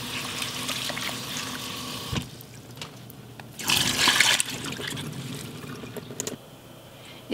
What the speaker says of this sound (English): Now I will wash the brown lentils and drain the water.